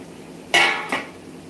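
A spoon stirring vegetables and pods in a metal pot for a Khandeshi dish makes two quick, bright clinks half a second apart against a quiet background, close by and alone.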